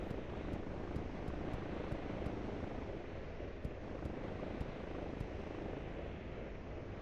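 A steady, dense helicopter rotor drone in the video game Line War fills the background at low level, with faint periodic clicks over the continuous whir.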